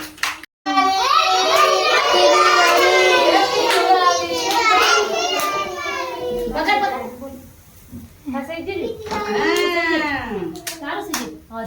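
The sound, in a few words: children clapping hands at a Diwali celebration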